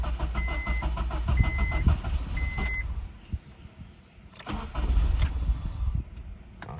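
A swapped-engine Acura RSX base cranking on its first start with old, bad gas in the tank, the starter whirring in rhythmic pulses with beeps, then a pause and another burst of cranking.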